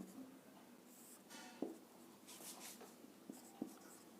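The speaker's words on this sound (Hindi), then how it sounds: "यहां से लिखता हूं मैं, एक हेडिंग लिखता हूं" A pen or marker scratches steadily across a board or paper while a heading is written, faint and close, with a few light taps of the tip at the starts of strokes.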